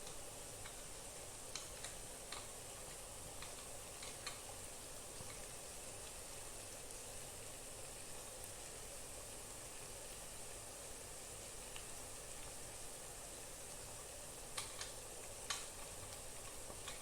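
Ground coconut paste with turmeric and salt being stirred into a frying pan, a faint continuous sizzle with occasional light scraping ticks and spoon taps, no talking.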